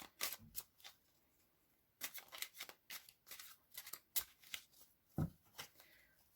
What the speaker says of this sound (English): just giving them a good shuffle